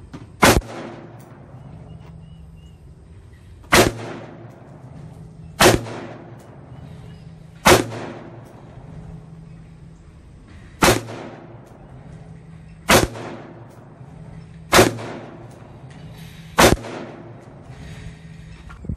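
Seven sharp, loud rifle shots from a SIG 5.56 fired outdoors at about 30 to 40 yards with soft tip ammunition, spaced roughly two to three seconds apart, each with a short ringing decay.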